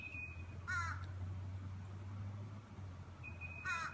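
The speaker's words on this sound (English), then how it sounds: "the birds singing in the trees above me" Crows cawing in the trees overhead, two short bursts of harsh calls spaced a few seconds apart, moderately distant over a low steady background hum.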